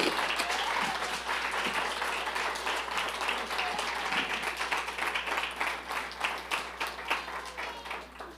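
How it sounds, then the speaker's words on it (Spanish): A church congregation gives a warm round of applause to the Lord during a Sunday morning service, many hands clapping steadily and fairly close, the claps thinning toward the end. "Y yo le daría un fuerte aplauso al Señor en esta mañana"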